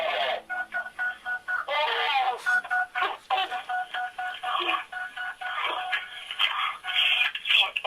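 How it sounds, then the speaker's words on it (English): Telephone keypad tones beep in a rapid series of short dialing presses on a recorded phone call, clear and close with faint line noise between them. "Here is that first phone call now."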